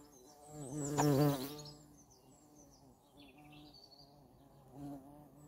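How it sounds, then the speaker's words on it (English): Bees buzz close by around plants, one swelling loudly as it passes, then fainter hums coming and going, with faint bird chirps in the background. "And it's attracting the bees."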